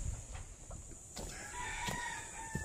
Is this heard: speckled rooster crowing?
yes